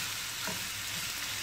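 Ground meat and onion sauté in a pan without added oil, filling for a layered crispy börek, giving a steady, close hiss with a brief soft stir near the middle.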